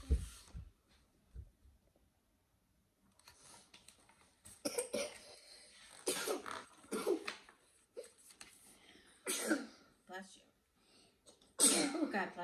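A single sharp sneeze bursts out amid coughs and throat-clearing noises, with a voice speaking in between.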